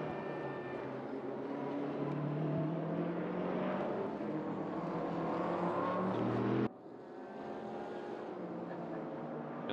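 BMW M6 and Z4 GT race cars in a sim racing game at Motegi, a steady droning engine roar at moderate distance that cuts abruptly to a quieter, thinner engine hum partway through, with muffled commentary beneath.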